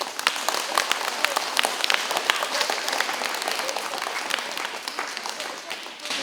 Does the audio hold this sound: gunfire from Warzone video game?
no